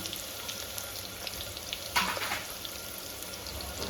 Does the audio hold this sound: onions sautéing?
yes